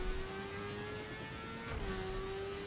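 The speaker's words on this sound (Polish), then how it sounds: "to jest po prostu dźwięk zmiany biegów" Car engine in The Crew racing game holding a steady drone, then a quick gear shift that drops the pitch, with a soft exhaust puff at the change and the engine settling into a lower hum.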